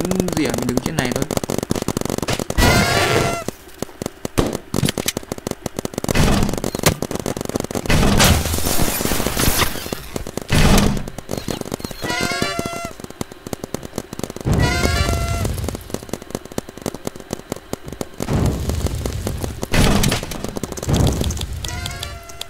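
Paintball guns firing in a Roblox paintball match, rapid crackling bursts of shots in quick runs with brief whistling tones in between, loud and dense across the whole stretch.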